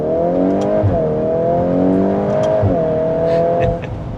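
A 2025 Volkswagen Golf R four-cylinder with dual-clutch transmission accelerates hard, the engine note climbing through the revs with two quick shifts that briefly drop the pitch before it rises again, loud and close, then easing off at the end.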